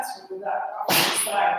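A single sharp sneeze bursts out partway through, loud and close, during a GI yoga class, right after a person speaks a brief instruction.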